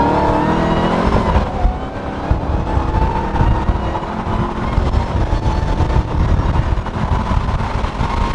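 A Dodge Challenger Hellcat Redeye widebody accelerating, its engine a loud, continuous roar heard from inside the car, swelling slightly partway through and holding steady with no talk.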